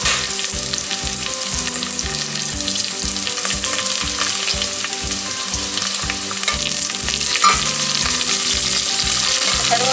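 Curry leaves fry in hot oil for chicken curry, a loud steady crackling sizzle close up, with rhythmic scraping stirs pulsing through it the whole time.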